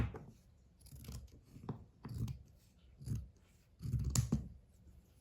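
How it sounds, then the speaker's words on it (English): Scissors snip through scrap fabric while a skirt is being trimmed even, a handful of soft, close crunching cuts spaced about a second apart with quiet pauses between. "I'm gonna cut this a little bit so that it's all even."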